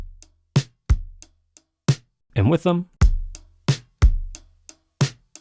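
A looped drum beat for a bedroom indie pop track, sharp kick and snare hits repeating at an even pace, with a short burst of a brighter tonal sound in the middle and a few spoken words.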